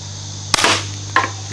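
Two sharp BB gun shots at plinking targets, each a crisp snap followed by a short metallic ring, about half a second apart, close and loud over a low steady hum.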